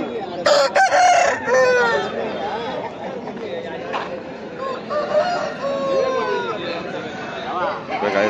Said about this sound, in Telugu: గిరిరాజ కోళ్ళు